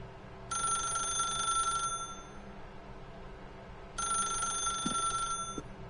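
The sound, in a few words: telephone ringing, from video game The Stanley Parable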